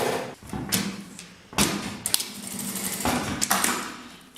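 Sewing machine topstitching a seam on a fabric bag, a series of close, uneven mechanical thumps and clatters with fabric handling between bursts, no talking.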